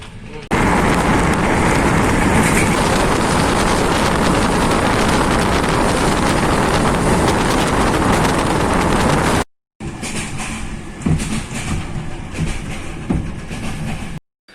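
Train rumbling steadily as it runs into Gorna Oryahovitsa station in Bulgaria, a loud continuous broadband roar from inside the carriage that cuts off abruptly, then resumes more quietly with clunks and faint background sounds.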